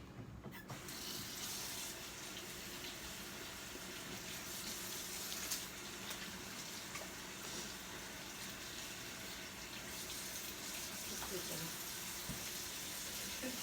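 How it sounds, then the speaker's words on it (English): Tap water runs steadily into a kitchen sink during home meal prep, a constant close hiss of flow lasting throughout with no clear talk over it. "Let me wash my hands."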